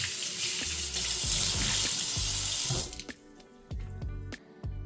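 Tap water pours into a kitchen sink to wet a sponge, a steady loud rush that cuts off partway through, followed by sharp clicks and wet squishing handling sounds.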